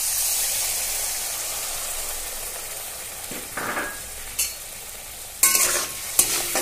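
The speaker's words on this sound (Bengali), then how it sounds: "ছেঁকে রাখা সর্ষে বাটার অর্ধেক পেস্ট আমি এখন দিয়ে দিচ্ছি।" Mustard paste goes into a pan with frying bata fish, a soft steady sizzle joined by a few sharp stirring and scraping bursts near the end, with no voices.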